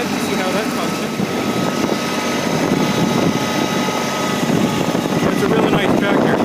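A 2019 New Holland Workmaster 25S sub-compact tractor runs in four-wheel drive, its engine a steady, close drone with a rattling mechanical edge that holds even throughout, with someone speaking at times over it.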